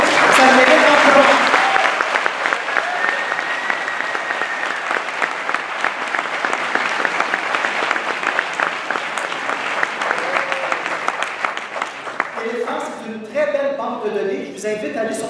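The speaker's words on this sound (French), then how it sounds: "j'aimerais vraiment qu'on fasse une bonne main d'applaudissement à Éléphant" Audience applause at a film festival screening of a restored classic, loud, dense clapping filling the room for most of the span before tapering off as a voice begins speaking near the end.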